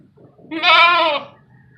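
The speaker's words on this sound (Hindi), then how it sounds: "झालर वाली बकरी है, 2 दांत है" A single goat bleats once at a livestock market, a loud, wavering, nasal cry lasting under a second against a quiet background.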